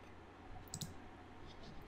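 A pair of quick, faint clicks close together, like a computer mouse button, over a quiet background hum.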